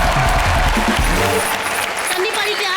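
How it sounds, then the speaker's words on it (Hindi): Studio audience at a live comedy show breaks into loud, sustained applause that stays dense and steady throughout, with voices briefly mixed in at the start. "जोरदार तालियां"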